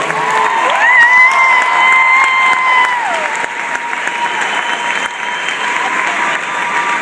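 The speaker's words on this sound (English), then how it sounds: "so give them a round of applause" Loud crowd applause for cheerleaders and young gymnasts at a Norwalk Truckers event, sustained clapping with scattered cheers and whoops, strongest at the start and easing slightly toward the end.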